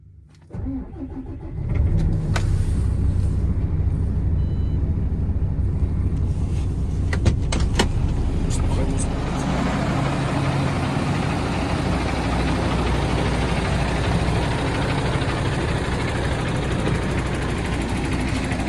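A MAN tractor unit's diesel engine cranks and catches after a short quiet moment, then settles into a loud, steady, close rumbling idle that carries on without speech.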